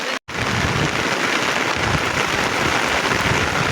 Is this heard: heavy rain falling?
yes